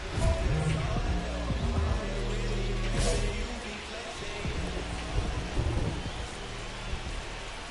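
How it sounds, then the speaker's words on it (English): Steady rain hisses over a baseball video game, with low rolling thunder rumbling several times beneath a broadcast-style voice. "This rain is not letting up"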